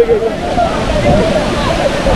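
Water rushes and sloshes loudly at Kondi Waterfall near Beloshi-Sagwadi, Alibag, a close, constant churning roar with a faint voice mixed in underneath.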